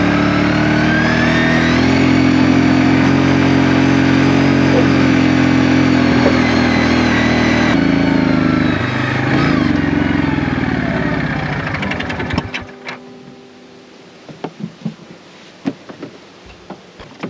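A neglected Yamaha ATV engine runs loud and steady with revving harmonics for about twelve seconds, then cuts out, leaving scattered clicks and faint knocks.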